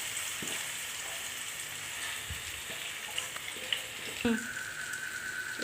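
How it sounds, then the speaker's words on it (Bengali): Boiled olives dropped into hot oil and frying in a pan, a steady crackling sizzle with a few splashes and clinks, at moderate loudness, close by with no talk. "তো এখানে আমার তেলটা গরম হয়ে গেছে। এই যে আমি এখন জলপাইটা দিয়ে দিব"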